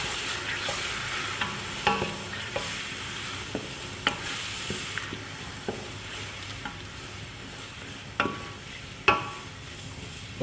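Chopped tomatoes stirred in a pot while cooking for masoor dal, a spoon scraping and knocking at an irregular pace over a soft, steady sizzle, close and fairly quiet, with no talking.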